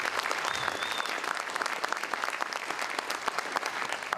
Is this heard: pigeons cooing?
no